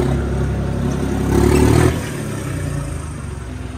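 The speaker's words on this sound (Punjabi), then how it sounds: "ਚਲੋ ਹੁਣ ਟਰੈਕਟਰ ਕਰਦੇ ਹਾਂ ਆਪਾਂ ਅੰਦਰ" A John Deere tractor engine pulls into a shed, a steady mid-pitched running note that swells into a louder rev about halfway through, then settles back to a rumbling idle while someone talks over it.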